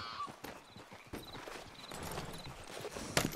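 Horse hooves clip-clop steadily on the ground in Red Dead Redemption 2, a continuous rhythmic trot with game ambience and faint voices mixed in.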